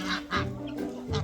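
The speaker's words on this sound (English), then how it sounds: "We have geese," Several loud, nasal goose honks in quick succession, close by on a free-range poultry farm, with a short pause between calls and no talking.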